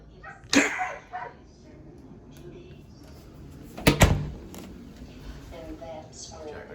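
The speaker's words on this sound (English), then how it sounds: "Dogs making them noises." A couple of sharp dog barks, one early and a louder pair midway, over quiet background noise.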